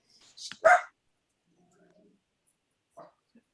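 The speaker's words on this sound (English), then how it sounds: "That's my dog." A dog gives two or three sharp barks close by, then the room goes quiet except for faint murmuring and a small yip near the end.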